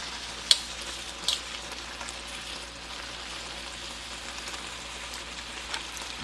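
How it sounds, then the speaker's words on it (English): Shrimp sizzling in a stir-fry pan for a spicy beef and shrimp teriyaki dish, a steady soft crackle throughout with a couple of brief sharper pops near the start. "You see the shrimp is cooking."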